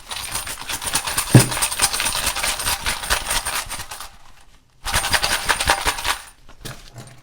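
Coins rattle and jingle together inside a zipped purse with a penny and an iPhone 6, two long shaking bursts split by a short pause, with a final brief jingle.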